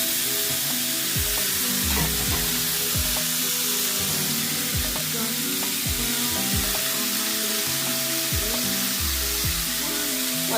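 Boiled greens frying with garlic in a hot pan, a dense continuous sizzle with repeated spatula scrapes and stirring knocks throughout, close and loud with no talk.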